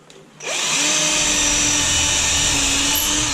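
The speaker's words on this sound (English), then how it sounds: "I'm screwing them in roughly now" A power drill drives screws into a wood panel inside a narrowboat, starting after a short quiet moment, then a loud, steady high whine held for about three seconds with slight pitch changes as the screw bites.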